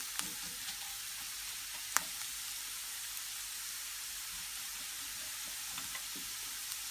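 Potato pieces fry in a pan for an omelette, giving a soft, continuous sizzle with a few faint clicks and pops against the hiss.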